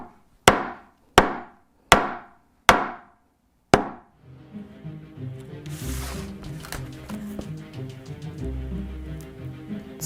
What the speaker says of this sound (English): I hit it with a hammer over and over again like usual